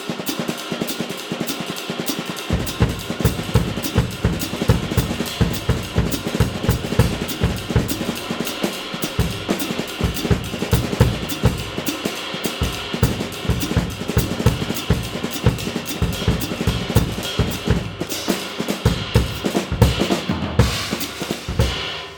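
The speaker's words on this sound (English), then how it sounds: "Now, one thing that everybody loves to do is groups of 5 and 7 on the bass drum" Jazz drum kit groove keeps a ride cymbal pattern going while the bass drum plays grouped phrases of five and seven underneath, dense, loud and continuous for over twenty seconds with no talking.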